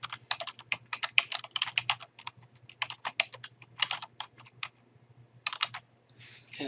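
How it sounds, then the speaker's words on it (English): Quick, light clicking of fingers typing an email address on a computer keyboard, in rapid close bursts with brief pauses, over a faint steady hum. "type in your email address"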